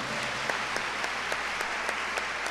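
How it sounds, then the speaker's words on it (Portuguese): A church congregation applauds steadily at a televised Catholic gathering, a dense wash of clapping with a few sharper claps standing out, continuous and fairly even for a couple of seconds. "Vamos aplaudir isso?"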